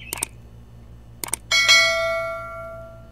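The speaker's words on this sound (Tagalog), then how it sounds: "Ang notification bell." A notification bell sound effect: two quick pairs of light metallic dings, then a louder struck bell that rings out with a long, slowly fading shimmer, heard alone.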